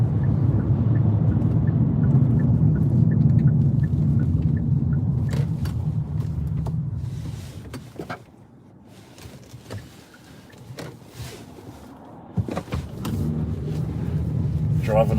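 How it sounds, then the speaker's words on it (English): Kia Cerato rental car driving in the rain in the NSW Northern Rivers, a steady low road rumble with engine and tyre noise throughout, dipping midway, with brief clicks and taps over the drone. "Driving a rental car, Kia Cerato."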